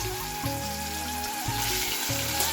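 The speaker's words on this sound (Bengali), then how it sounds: "চিংড়ি মাছগুলো ভেজে নিচ্ছি" Prawns fry in a pan with a steady, close, hissing sizzle that holds throughout, over a low background hum.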